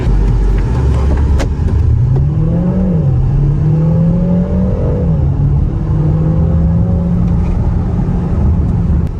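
A car accelerating hard from standstill to 100 km/h on a Dragy timing run: loud, steady engine roar climbing in pitch through several gear changes, close and continuous inside the cabin.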